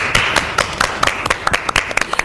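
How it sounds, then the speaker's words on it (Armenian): Clapping from a small audience at an Armenian folk singer contest show, a brief burst of sharp, uneven hand claps close by with no voices over it. "Ծափահարենք"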